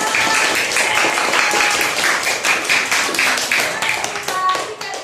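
Classroom applause for a group's presentation on toothbrushing, a dense, steady clatter of many hands clapping near and loud for about five seconds, tapering slightly at the end.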